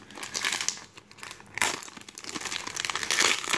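A foil Pokemon card pack from Japanese Steam Siege crinkles and tears as it is opened, with a burst of crinkling, a short pause, then sustained rustling that builds toward the end.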